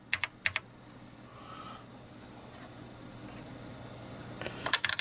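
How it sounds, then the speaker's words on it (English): Typing on a BBC Master computer keyboard: quick bursts of clicky keystrokes at the start and again toward the end, with a quiet hum-filled pause between, close and fairly clear. "Keyboard works absolutely spot on."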